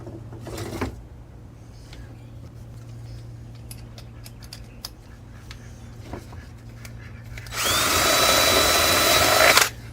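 A power drill bores drain holes into the bottom of a dried gourd: a steady low hum and faint clicks, then a loud high whine near the end.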